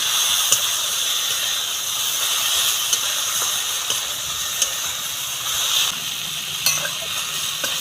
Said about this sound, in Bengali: নারকেলটা দিয়ে আরও একবার ভালো করে নাড়াচাড়া করে নেব